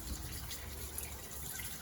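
Water runs and splashes steadily over a Sea-Doo Speedster engine block at low volume, a continuous soft gushing with no voices.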